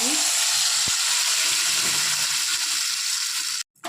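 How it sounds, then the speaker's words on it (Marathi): Ground masala hits hot oil for a mutton curry, sending up a loud, steady sizzle with occasional scrapes of stirring. The sound cuts off abruptly just before the end. "आता याला फोडणी देऊ चांगलं गरम झालं आहे आता यात मसाला टाकून"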